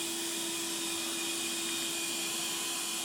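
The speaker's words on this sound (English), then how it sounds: "We always conduct this test vacuuming carpet with all max suction and carpet settings enabled" Narwal Freo robot vacuum running at max suction on carpet, a steady loud whirring drone with a high-pitched motor whine held evenly throughout, no voices.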